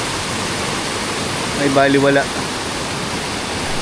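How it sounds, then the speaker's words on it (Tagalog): Heavy rain pours during a typhoon at sea, a constant, loud hiss of water that drowns out the surroundings, while a voice speaks briefly in the middle. "Grabe na yung ulan guys, parang ayaw nang huminto."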